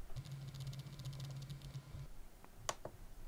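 Quiet, close clicking on a computer keyboard during a radio transmitter telemetry setup, a short run of soft taps over a faint electronic hum, then a louder single key strike like hitting return.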